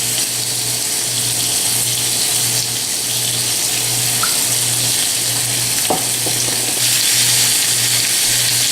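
Marinated sirloin steaks searing in a hot grill pan, a steady close sizzle with a low rhythmic hum underneath and a few faint clinks.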